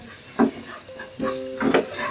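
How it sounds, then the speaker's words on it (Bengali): Spices sizzle and crackle in a hot pan with a few stirring scrapes, close and moderately loud, in short bursts. "মশলাগুলো খুব ভালোভাবে ভাজা ভাজা করা হয়ে গেছে"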